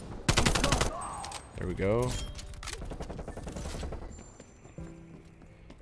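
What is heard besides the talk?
AK74u gunfire in video game Call of Duty Cold War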